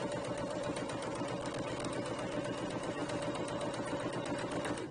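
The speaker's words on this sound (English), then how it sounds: "I'm going to run a row of stitching all the way down my fabric" A sewing machine runs a continuous row of stitching down a length of fabric with a steady, fast, close whirring rattle that holds an even pace throughout, with no speech.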